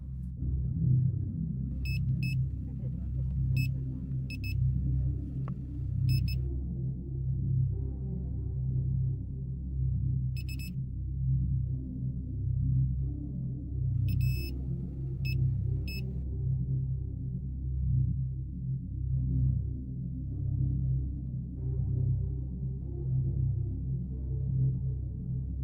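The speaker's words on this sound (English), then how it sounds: "a manual electronic device, which beeps when its signals detect the presence of metal." Deep steady rumbling drone with short, sharp high electronic beeps from a metal detector in irregular clusters, some doubled, standing out clearly above the low hum.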